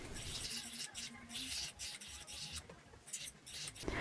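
A small abrasive sanding disc rubs and scrapes against the metal prong of a solitaire ring in quick, uneven passes, a soft gritty rasp close by.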